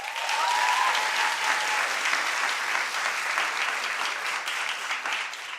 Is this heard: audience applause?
yes